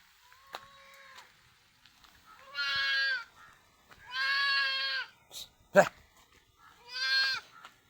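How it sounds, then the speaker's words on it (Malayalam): A young goat bleats several times, short wavering cries spaced a few seconds apart, close by, with a sharp click between calls. "നല്ലൊരു മുട്ടൻകുട്ടി ചെറുതായിട്ട് ഇലയൊക്കെ കടിച്ചു നോക്കുന്നുണ്ട്"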